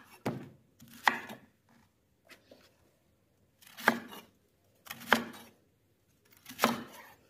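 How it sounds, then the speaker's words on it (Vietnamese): A knife cutting through cabbage on a board, about five crisp, separate crunching chops spaced a second or more apart, close and distinct against near silence. "Bây giờ mình sẽ sắc bắp cải ra."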